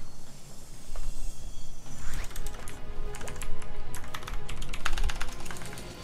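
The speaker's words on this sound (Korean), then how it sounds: "지금 키보드가 님들 바뀌어가지고 키가 계속 씹혀요" A computer keyboard is tapped in quick, uneven bursts during a solo boss fight in an online action game, with the clicks sitting over a steady bed of game music and effects.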